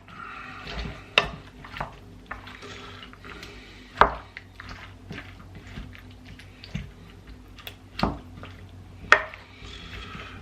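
Ingredients for cowboy stew, including mushrooms, are stirred in a pot, giving soft scraping and scattered clinks and taps at an uneven pace over a quiet background.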